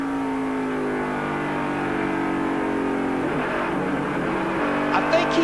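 Kenny Wallace's No. 23 Busch Series race car at Gateway in 2004 drones loudly and steadily down the front straightaway, its engine note climbing as it holds speed, with a commentator's voice over the roar.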